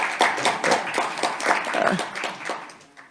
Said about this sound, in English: I think we can all clap for him because he keeps us all going and organized